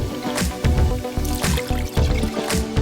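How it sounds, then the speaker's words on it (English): Chicken stock poured into a pressure cooker pot, a near, uneven series of liquid splashes and glugs with brief pauses between them. "I'm gonna pour in a cup of chicken stock"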